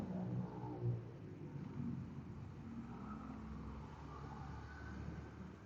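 Dense road traffic on Quirino Highway in the Philippines, a steady low rumble of cars and engines close by with a brief rise near the start, no talk over it.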